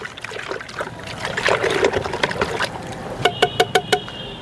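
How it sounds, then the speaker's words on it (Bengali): A stick stirs liquid organic plant fertilizer in a container, making sloshing, trickling water sounds close up, then a quick series of sharp knocks near the end. "এটাকে খুব ভালো করে নেড়ে দিতে হবে"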